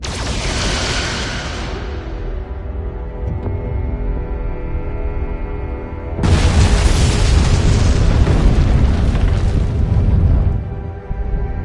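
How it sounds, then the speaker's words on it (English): Star Trek photon torpedoes fire in two loud bursts, each a booming, roaring blast that fades out, with a lower humming lull between them and no voices. "Firing photon torpedoes."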